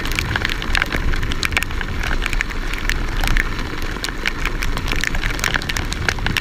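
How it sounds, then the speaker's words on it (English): Rain patters steadily on the rider and gear during a wet off-road e-scooter ride through Birches Valley, a dense crackling hiss with frequent sharp drop impacts, continuous and close, with no talking. "Here comes the rain through the puddles."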